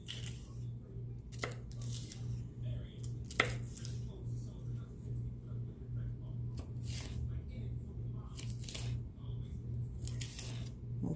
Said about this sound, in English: We just cut the peppers up. We just cut them into thin slices.